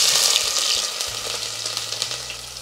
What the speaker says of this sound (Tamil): இந்த எண்ணெய் காஞ்சதும் வெங்காயம் தக்காளி சேர்த்து நம்ம வதக்க போகிறோம்.